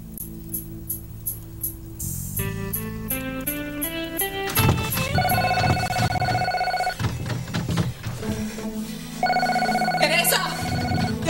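A telephone rings repeatedly in a steady on-and-off pattern and goes unanswered, joined by stretches of dramatic background music and brief talk over the top.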